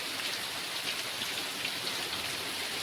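Heavy monsoon rain pouring steadily over a Gujarat village in Vijapur taluka, a dense, even hiss of drops hitting surfaces with no pauses and no voices.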